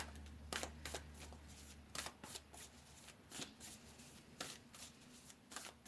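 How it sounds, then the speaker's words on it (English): Tarot cards being shuffled and drawn, with crisp riffling bursts and soft slaps coming in irregular clusters, close and fairly quiet, with no voices. "let's go ahead and pull another card here, group number 4"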